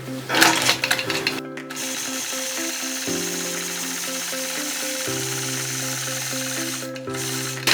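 A sewing machine quilts a woven border along a stitch line, running in a steady mechanical hum whose pitch shifts between sustained stretches, with a brief pause near the start and another near the end.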